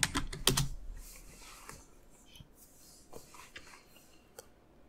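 A password typed on a computer keyboard: a quick flurry of close, crisp key clicks at the start, then sparser, quieter taps spread across the rest.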